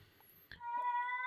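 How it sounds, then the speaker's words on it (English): A cat meows once, nearby and clear, a drawn-out tonal cry rising out of a quiet room after a small thump. "That's the cat, guys."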